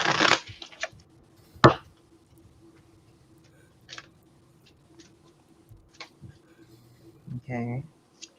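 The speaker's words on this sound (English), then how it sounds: "let me shuffle one last time and I'll draw." Tarot cards are shuffled in a few sharp riffles and soft card taps spread across several seconds, mostly quiet between them, with a voice joining briefly near the end.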